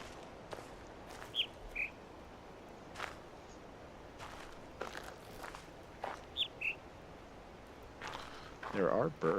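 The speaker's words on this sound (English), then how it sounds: "There are birds," Birds chirping in the video game The Witness, a few short bright tweets in separate pairs, faint against a soft outdoor ambience with footsteps and rustling.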